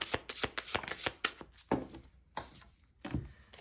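Tarot reading cards being shuffled by hand: a quick series of crisp riffling snaps and flutters, then a few separate slaps and pauses, close and fairly clear, with no talk.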